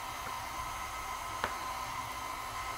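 A hair dryer blows with a steady, even whoosh and hum while drying acrylic paint, a single faint click cutting in briefly.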